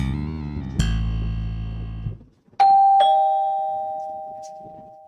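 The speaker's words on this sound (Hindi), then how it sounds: "डोरबेल बजी है" A two-tone electronic doorbell rings twice, each chime sustained and decaying, with a brief pause between them and no talking.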